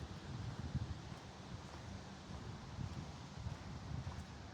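Steady wind blows outdoors, a continuous low rumbling buffet against the microphone with faint rustling, no voices.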